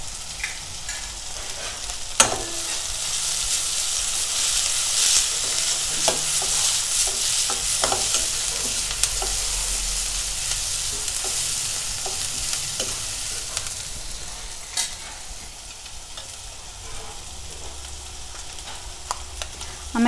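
Ginger-garlic paste stir-fries in a hot pan for veg hakka noodles, a loud, continuous sizzle broken by scraping stirs and occasional sharp clicks throughout.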